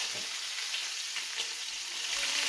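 Organic corn-fed chicken legs fry in a pan with a steady, close, bright sizzle and crackle that holds even throughout, with no talking.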